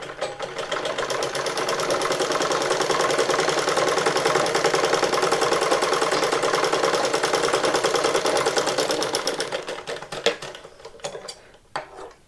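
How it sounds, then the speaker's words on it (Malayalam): A sewing machine stitches saree blouse fabric along a marked line, running loudly and steadily for about ten seconds before stopping, followed by a few sharp clicks and handling sounds. "നമ്മളിനിയും ആ മുമ്പ് കണ്ട അടയാളത്തിലൂടെ തയ്ക്കുക"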